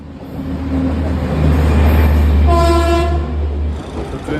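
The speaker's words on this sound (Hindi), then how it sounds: "तो ट्रेन आ चुकी है भाई," A Garib Rath express pulls into a station, its heavy rumble and wheel clatter filling the space as a loud horn sounds partway through, with no voices.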